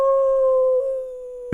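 A person imitates a wolf howl, holding a single long, steady, loud note for over a second before it breaks off abruptly.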